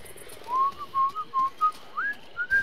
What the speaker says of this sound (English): Whistling sounds awful.